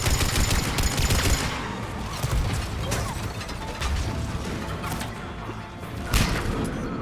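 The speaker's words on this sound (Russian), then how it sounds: "Ссаная турель, блин, а?" Turret gunfire in the video game Mass Effect 3, a dense, continuous mechanical rattle of rapid shots with clanking bursts, loud and close throughout.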